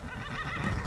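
A horse in the video game Skyrim gives a short, close whinny that fills the whole brief moment, with no talking over it.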